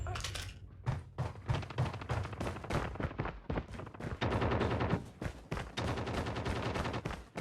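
Gunfire in Call of Duty Mobile, dense rapid automatic bursts and shots nearly nonstop over busy game sound, with voices speaking at times.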